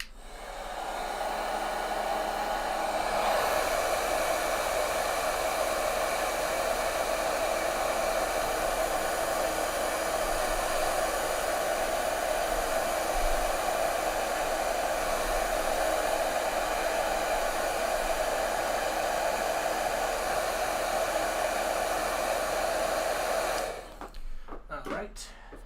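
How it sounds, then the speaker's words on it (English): A heat gun shrinks heat shrink tubing over power wires, giving a loud, steady blowing roar that holds for more than twenty seconds before cutting off abruptly. "I got our heat shrink on, and I'm going to use the heat gun. It's going to be a little noisy"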